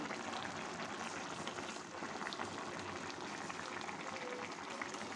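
Rice for vegetable biryani boiling in a covered pot of water, a steady, dense bubbling hiss that runs evenly throughout at moderate closeness with no pauses.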